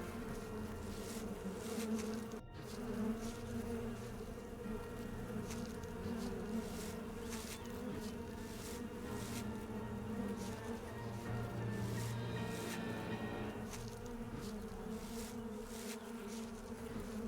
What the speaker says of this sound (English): Buzzing.